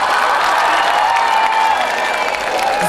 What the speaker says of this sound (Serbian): Aplauz da čujem, ajmo